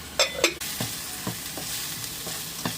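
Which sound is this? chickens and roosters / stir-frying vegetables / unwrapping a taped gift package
stir-frying vegetables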